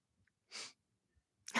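A sharp, loud sneeze bursts out once, followed by quiet and then the start of another forceful sneeze at the very end.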